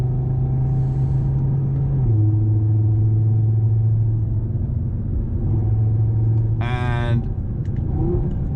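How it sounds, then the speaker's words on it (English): A 612 hp Audi TT RS MTM engine drones loud and close inside the car, its pitch rising and shifting as it accelerates on turbo boost, with a sharp burst near the end. "a very high turbo boost, so you have a bit of a turbo gap, a bit of lag, and then the turbo kicks in"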